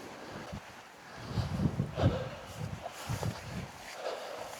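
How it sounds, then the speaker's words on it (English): Gusty wind on an open hilltop in the Yorkshire countryside near Addingham, buffeting the microphone with low rumbling surges that rise and fall, swelling strongest midway, with no talk heard. "It's quite windy."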